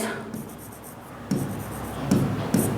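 Chalk or pen scratches on a board during a coordinate geometry maths lesson, in a few quiet short bursts of writing strokes against a soft room background.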